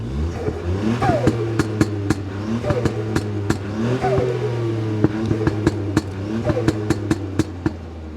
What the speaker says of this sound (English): It's even got a sport button with some overrun